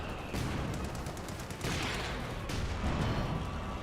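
Vickers machine gun fire rattles in Company of Heroes 2 battle gameplay, coming in several loud, rapid bursts over steady background combat noise.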